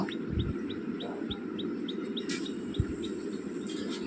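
Repeated short high chirps in a steady series from young Madrasi pigeon chicks, over a constant low background hum with a few soft knocks.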